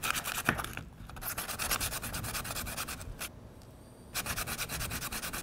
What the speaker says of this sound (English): We'll just hand sand it. Okay. Well, here's some 120 sandpaper.